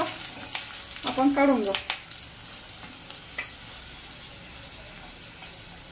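Stale chapati snack tossed with curry leaves in a hot pan gives a soft, steady sizzle with a few scraping stirs, while someone talks over it and the frying fades quieter toward the end.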